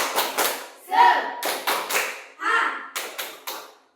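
Rhythmic hand clapping in a steady group pattern, about a dozen sharp claps with brief pauses, interspersed with a voice chanting along.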